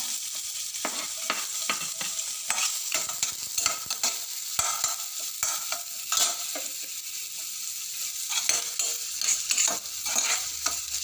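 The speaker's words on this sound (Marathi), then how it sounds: "कांदा हलका असं थोडं तांबूसून द्यायचा, लय पण नाही।" Onion frying in a pan while being stirred, a dense close sizzle broken by frequent scraping spatula strokes in an irregular rhythm, with no talking throughout.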